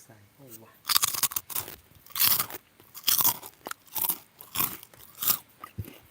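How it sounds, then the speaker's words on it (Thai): Loud, close crunching of a crispy snack, repeated bites and chews in a steady rhythm, with brief voice sounds at the start. "ผมกินขนมโชว์เลย"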